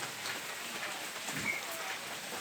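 Steady rain falls outdoors as a faint, even patter and hiss, distant and unbroken throughout, with no voices.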